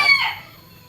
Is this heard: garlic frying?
no